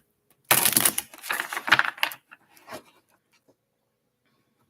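A deck of tarot cards being shuffled close up: a quick, crisp flurry of riffling and flapping that lasts about two seconds, then a few faint taps before silence.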